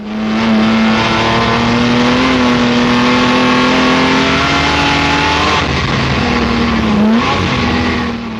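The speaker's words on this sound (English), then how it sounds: "It's down to 3rd, back on the pedal again." A Jaguar D-Type racing car engine roars loudly up close as it accelerates on track, a sustained throaty drone climbing in pitch, briefly dipping on a downshift near the end before pulling hard again.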